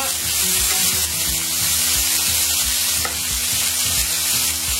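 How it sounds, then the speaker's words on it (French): Butter sizzles and crackles steadily in a hot pan as it browns to a nutty colour, a dense continuous frying hiss with faint knocks of stirring underneath. "on attend toujours que le beurre soit couleur noisette"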